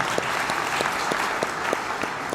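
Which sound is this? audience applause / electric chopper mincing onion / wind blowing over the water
audience applause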